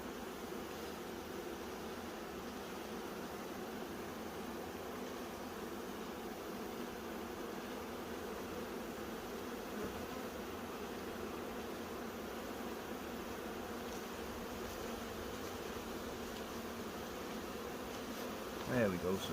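A swarm of honey bees being caught from a tree produces a dense, steady buzzing drone that continues unbroken at moderate level throughout, with a brief rustle near the end.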